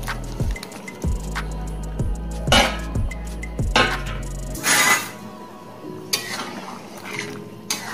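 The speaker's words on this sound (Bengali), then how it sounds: "এবার আমি পটলগুলো দিয়ে দেবো," Pointed gourd added to prawns cooking in a pan for a Bengali prawn and potato curry: a series of regular scraping and clinking spoon strokes against the pan, then a louder burst of sizzling and stirring.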